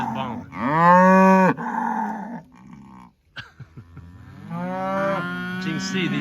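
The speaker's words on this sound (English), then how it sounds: "There she is bawling" A cow in a winter-grazed herd bawls twice, loud, long moans close by, separated by a pause with faint rustling and a few thumps.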